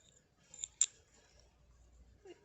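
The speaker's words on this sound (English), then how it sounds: "We've got some orange scissors." Orange scissors handled in a quiet room, giving a couple of faint, crisp snips and clicks spread over a few seconds.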